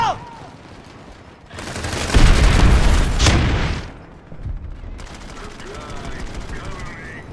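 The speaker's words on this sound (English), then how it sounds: "Grenade! Out!" Loud bursts of gunfire and a grenade blast in the online shooter PlanetSide 2, a dense rumbling barrage swelling for about two seconds mid-clip, then scattered lighter shots continuing.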